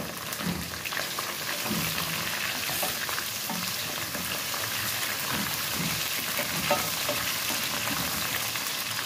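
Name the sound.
minced meat added to frying onions, sizzling in pan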